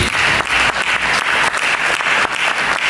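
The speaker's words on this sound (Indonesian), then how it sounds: "Berikan tepuk tangan." A church congregation applauding, dense, loud and steady clapping from many hands filling the whole short stretch with a slightly pulsing rhythm.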